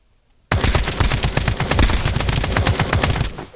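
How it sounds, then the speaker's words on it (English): Rapid, sustained automatic gunfire from the video game Escape from Duckov erupts suddenly after a brief silence, loud and continuous for about three seconds, then cuts off. "avoided your gunfire?"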